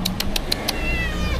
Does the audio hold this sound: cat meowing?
yes